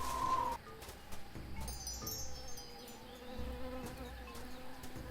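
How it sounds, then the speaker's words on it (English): Bees buzzing in the Tales of Monkey Island adventure game, a continuous low droning hum with a brief louder burst at the start and faint game ambience around it. "I hear bees."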